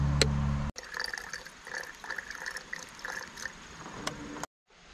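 Distilled water pours into the cells of a car battery, a steady close trickle and splash lasting about four seconds before stopping abruptly.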